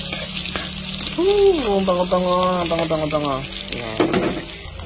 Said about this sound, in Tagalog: start na tayo mag-gisa ng ating bawang. Isang bawang at sibuyas.